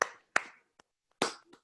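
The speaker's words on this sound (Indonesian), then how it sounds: "Kasih aplaus dong, tepuk tangan." A few sharp hand claps ring out one at a time during an online Ramadan talk session, sparse and irregular, with quiet gaps between them and no crowd behind.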